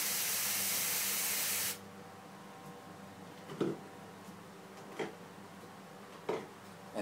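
An airbrush bubbling paint mixed with reducer in its cup makes a strong, steady hiss for under two seconds, then cuts off, leaving a quiet room with a few soft, scattered clicks.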